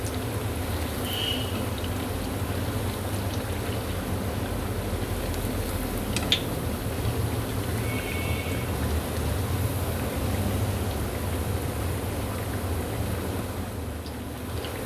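Potato kebabs frying in hot oil in a pan, giving a steady, soft, continuous sizzle with faint crackles throughout and no voices.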